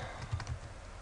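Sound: typing on a computer keyboard in Oracle SQL Developer

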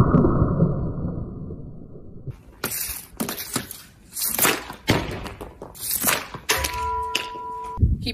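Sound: hockey puck shot after stickhandling

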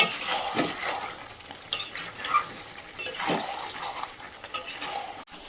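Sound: stir-frying chicken curry in oil

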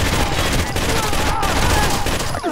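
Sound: gunfire from Rainbow Six: Vegas video game

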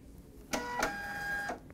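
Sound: label printer printing a continuous label

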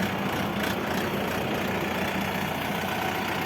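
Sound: Shifeng 404 four-wheel-drive tractor engine idling

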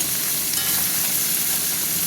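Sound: hilsa and khoira fish frying in a pan

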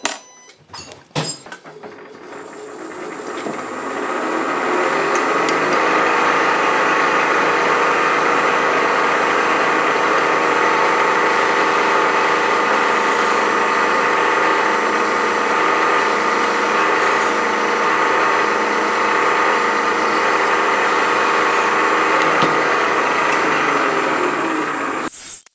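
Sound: drilling holes in metal on mill

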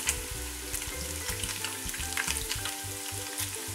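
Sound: taquitos frying in hot oil

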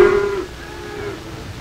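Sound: beef cattle mooing in stock pens

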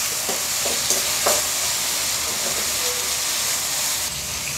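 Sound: tomato sautéing with onions in a pan

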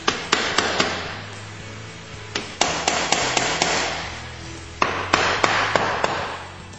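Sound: light taps with a soft mallet on GY6 scooter CVT cover

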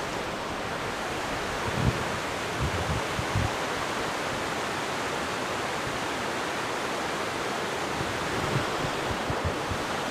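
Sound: mountain stream flowing at a trail crossing

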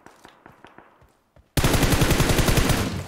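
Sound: gunfire in video game PUBG Mobile

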